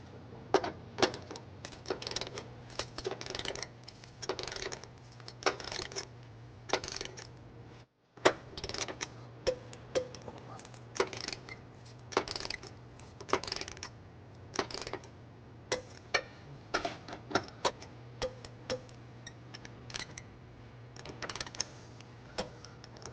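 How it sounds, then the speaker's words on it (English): Hitch bolts on a 2020 Infiniti QX60 being tightened and torqued with a 19mm socket and extension: rapid, irregular ratchet clicks and metallic ticks over a faint steady hum, close and continuing for over twenty seconds. "we're going to tighten and torque all of our bolts to the manufacturer specification"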